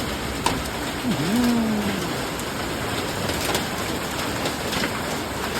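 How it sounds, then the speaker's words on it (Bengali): A dense, steady patter of large hailstones and rain falls continuously in a hailstorm, with a brief low tonal sound near the start. "কত বড় বড় শিল। হে ভগবান, খালি শিলই পড়তেছে।"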